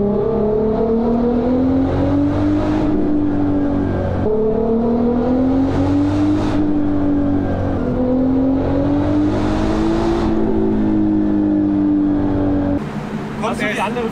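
A Golf 4 R32 turbo engine, tuned with an EMU Black ECU, revs loudly and continuously, its pitch repeatedly climbing and dropping in sweeping pulls, heard up close.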